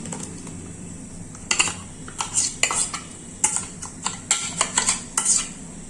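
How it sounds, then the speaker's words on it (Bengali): Litchi paste being stirred into hot sugar syrup for litchi rasgulla, a spoon clinking and scraping against the pot in irregular bursts, close and moderately loud with no talking. "এবার চিনি শিরাটাকে আমি খুব ভালো করে মিশিয়ে নিচ্ছি"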